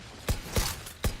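A gun being reloaded in a video game, heard as three sharp, close mechanical clicks spaced a fraction of a second apart, with no talk.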